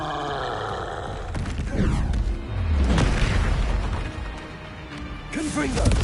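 Confringo fire spells blasting in Hogwarts Legacy, several booming, crashing explosions rolling through the scene, loud and close, with a voice shouting over the bursts.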